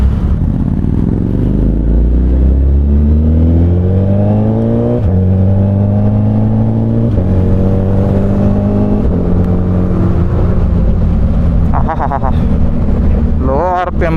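A Suzuki Hayabusa fitted with a Brocks carbon full exhaust system revs through several rising and falling low-RPM engine sweeps, loud and close with a deep burbling note and wind noise over the microphone.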